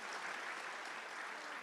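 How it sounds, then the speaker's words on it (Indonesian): An indoor audience at a church talk gives a brief round of applause, a steady, even wash of clapping heard at moderate distance. "tepuk tangan untuk ibu"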